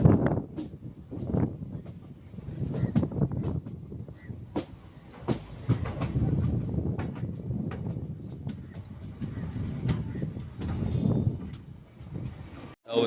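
A Ganpati special train runs toward Kankavli in the Konkan, its steady rolling rumble and rattling carriage noise filling the clip with scattered clicks and a few faint voices underneath.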